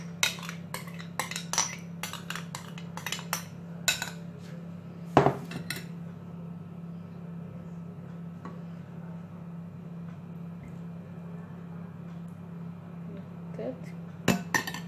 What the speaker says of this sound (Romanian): Batem puțin ouăle, adăugăm puțin lapte.